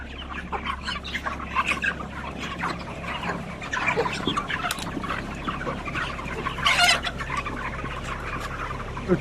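A dense chorus of 32-day-old chicken chicks peeping and cheeping continuously, many birds at once, close by over a steady low hum.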